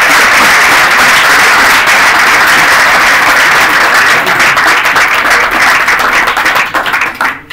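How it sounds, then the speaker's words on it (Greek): An audience at a seminar on racism in football gives loud, sustained applause, many hands clapping continuously before the sound starts to fade at the very end. "να δώσω ένα χειροκρότημα του Μάρκου και του Μάρκου"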